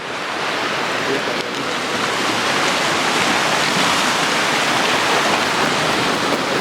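Ocean surf at high tide on a beach at San Agustín, Gran Canaria, a loud, continuous roar of breaking waves mixed with wind buffeting the microphone, unbroken throughout.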